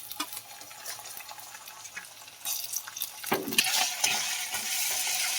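Ginger and cumin paste being sautéed for shing fish curry, a soft sizzle with stirring scrapes that grows louder and denser midway, heard alone.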